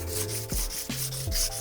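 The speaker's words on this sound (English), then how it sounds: "you're sanding hardened steel" Indasa sandpaper sanding a hardened steel nakiri knife blade, a loud, close, continuous abrasive rubbing in steady back-and-forth strokes, with no talk.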